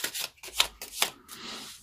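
Playing cards shuffled during a tarot reading, heard as a few quick riffling bursts that come through close and fairly clear, with no voices over them.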